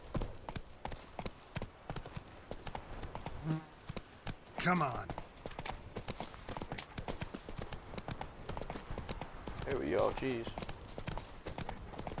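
Hooves of a horse in The Witcher 3 clip-clop steadily throughout, with a brief rider's voice speaking over the rhythmic footfalls amid game ambience.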